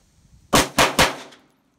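Three rapid handgun shots fired in quick succession from a two-handed grip, loud and close with sharp cracks and short ringing decay, no talking.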